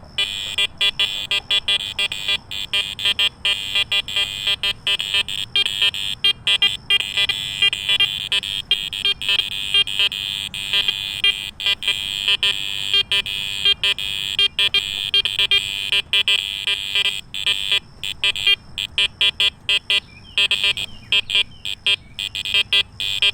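Steady high electronic tones from a Minelab Apex metal detector on an iron test board buzz continuously with rapid choppy chirps and dropouts throughout, a busy beeping signal without any voices.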